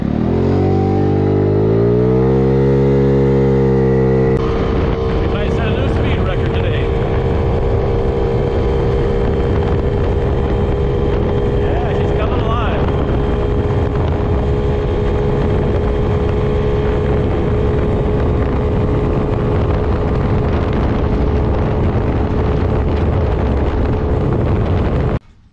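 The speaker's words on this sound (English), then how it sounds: "it takes off better, accelerates better, no bogging." A Maddog 50cc GY6 scooter engine, running with a larger carburetor jet, winds up from a rising rev into a loud, sustained high-pitched drone under hard acceleration, heard close and continuous for over twenty seconds before cutting off abruptly.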